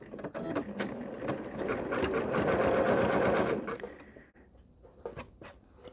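A sewing machine runs a zigzag stitch to join quilt-as-you-go pieces, its close, steady mechanical whirr rising for a few seconds and then tapering into light ticks and handling noises.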